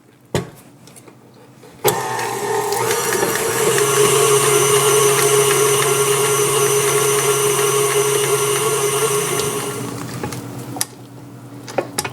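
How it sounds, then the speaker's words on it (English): Pumpkin roll batter being whisked in a bowl with a steady, loud mechanical whir, most likely an electric mixer, that starts abruptly and runs for about nine seconds before cutting off, with no talking. "I'm going to whisk this together."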